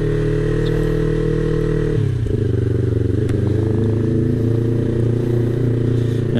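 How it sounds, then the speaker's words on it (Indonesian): Motorcycle engine idling and warming up in first gear on a cold morning, a steady loud low rumble that shifts pitch after a couple of seconds with a brief clattering change, then settles into an even drone. "kita pakai gigi satu biar cepet panas motornya"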